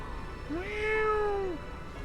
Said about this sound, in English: A sweet clingy meow.